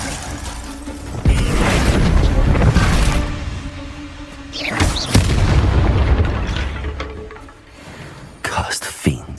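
Bombarda spell explosions in Hogwarts Legacy, several loud booming blasts in succession with deep rumbling bursts and crackling debris, mixed with game combat sounds.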